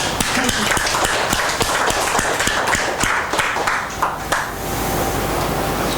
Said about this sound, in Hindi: सभी के लिए जोरदार ताली।